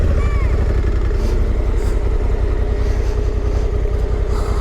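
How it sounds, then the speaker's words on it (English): Motorcycle travelling a road in Cameroon, a steady low engine drone running nearly the whole time at close range, with a brief high whine early on. "Oh, look at this motorcycle here."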